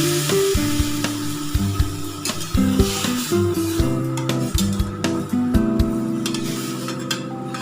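Water poured into a cooking pot of potatoes for a Bengali aloo recipe, giving a steady hot sizzle and hiss with light clinks of the pot, and no talking.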